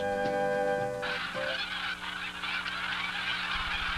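Migrating geese honk repeatedly in a Louisiana outdoor setting, their calls layered and overlapping at moderate distance against a steady background of wildfowl chatter.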